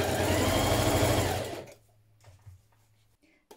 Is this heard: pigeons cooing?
no